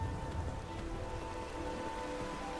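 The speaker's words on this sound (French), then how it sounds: "on va au combat, il se met à pleuvoir" Rain begins falling in the video game Skyrim, a soft, steady hiss of drops on surfaces, faint and continuous with no speech over it.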